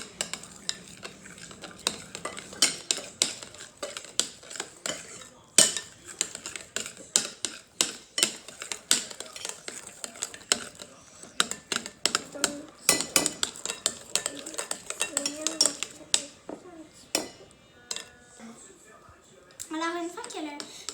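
Egg and brown sugar being stirred in a bowl, with a spoon clinking and scraping against the sides in a quick, irregular rhythm; a voice speaks over the stirring now and then.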